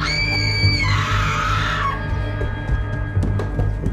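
A shrill scream sound effect in a Bengali village horror audio story, a high wavering cry lasting about two seconds over a busy, noisy background with clucking fowl-like sounds, and no speech.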